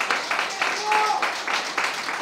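Applause from the audience at a kite-flying broadcast event in Santa Lucia, a steady patter of many hands clapping in rhythmic bursts, fairly loud and close, with faint voices underneath.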